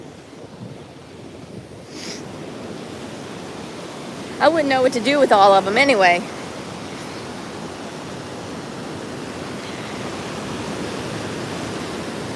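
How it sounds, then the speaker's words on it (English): Ocean surf on a beach rumbles as a steady, wide wash of noise with wind buffeting the microphone, and a person speaks briefly partway through. "But I do love the ocean here. It's so"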